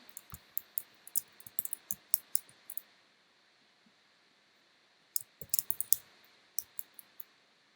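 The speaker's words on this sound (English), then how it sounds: "Here I can type in what I need." Typing on a MacBook Pro keyboard: light, close key clicks come in two bursts separated by a quiet pause of a couple of seconds, soft and unhurried, with no voice over them.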